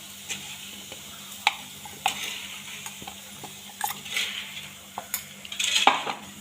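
Spoon stirring grated fresh coconut in ghee in a pan over low heat, with irregular scraping clinks against the metal over a faint sizzle, close and fairly quiet.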